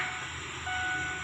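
A steady low rumble of a local train passing close by at a station, with a faint high whine running through it and no voices.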